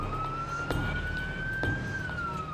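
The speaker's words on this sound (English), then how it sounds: "Dr. Holland and Genene race with her by ambulance to the ER." An ambulance siren wails steadily at a distance, a single sustained tone slowly rising and falling, with faint background rumble and no talk.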